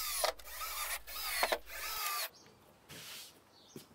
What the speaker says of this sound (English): I'll drill some holes for our test pipes and cables